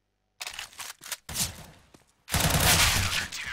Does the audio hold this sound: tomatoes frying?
no